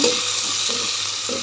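Steady, loud hiss of turmeric sizzling in a hot-oil tempering in a pan, with a few soft stirring scrapes, no voices.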